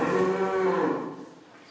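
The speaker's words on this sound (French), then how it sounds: "Ces vaches sont des limousines." Limousin cattle low inside a barn on a Corrèze breeding farm, one long sustained moo that is loud and close, then fades out over its final half second, with no talking.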